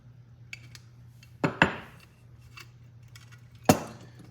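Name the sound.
wrench loosening a nut on a Coleman 200a lantern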